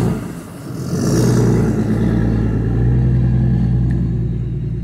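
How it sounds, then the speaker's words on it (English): A truck towing a trailer bearing a Salvation Army logo rumbles past nearby, its deep engine drone swelling and holding steady as it drives by a parking lot. "here comes another truck with the trailer behind it with the Salvation Army logo on it"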